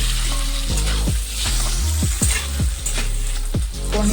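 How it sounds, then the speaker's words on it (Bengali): Cubes of paneer frying in hot oil in a kadai, giving a loud, steady sizzle and crackle, with repeated scraping knocks from stirring against the pan and no talk. "এখন পনিরগুলো দিয়ে দেব হাফ চামচ নুন দিয়ে দিলাম এখন পনিরটা ভালো করে ভেজে নেব"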